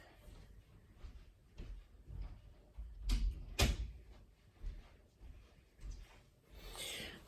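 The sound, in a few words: door being shut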